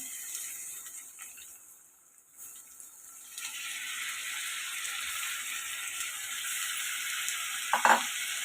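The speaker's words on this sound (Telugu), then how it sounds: "గంట ముందు నానపెట్టుకున్న శనగపప్పు కూడా వేసిద్దామండి" Soaked chana dal drops into a frying pan for a potato curry, and the hiss of frying swells into a steady, loud sizzle with a brief louder burst near the end.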